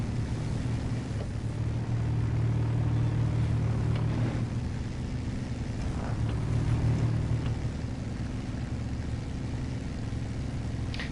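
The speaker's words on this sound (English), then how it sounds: "That engine sounds so beefy. It sounds like a stroker motor." A heavy truck engine in the SnowRunner video game on a console trail-riding mod map, a beefy stroker-style motor, drones steadily and loudly at low pitch for the whole stretch with no voices over it.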